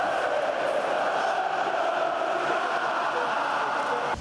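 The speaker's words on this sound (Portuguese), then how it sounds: "40 mil pessoas fizeram uma grande festa para comemorar esse título da Libertadores" Flamengo fans celebrating the Libertadores title at the Maracanã, a huge crowd of tens of thousands, roar in a steady, dense wall of cheering and chanting that holds loud throughout.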